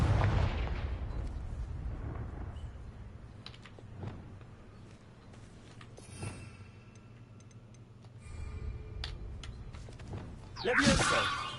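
Confringo explosion spell cast in the video game Hogwarts Legacy, heard as several sharp blasts and bangs over a dense bed of game ambience and music, with a louder burst near the end.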